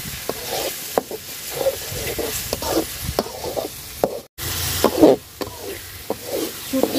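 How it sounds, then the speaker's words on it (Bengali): Salted dried fish with spices fries in a pan for a shutki bharta. A spatula scrapes and knocks in an irregular rhythm over a steady close sizzle. "শুটকিটা খুব সুন্দর করে আমি ভাজা নিচ্ছি"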